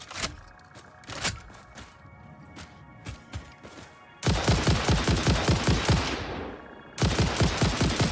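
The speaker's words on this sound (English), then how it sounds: "Just unload a few bullets there into the ether." Rifle gunfire in the video game Satisfactory: a few spaced single shots, then two sustained bursts of rapid automatic fire, loud and close, with no talking.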